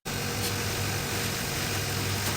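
A car engine idles in a steady, low rumbling hum, close and constant with a faint vibrating texture and no voices.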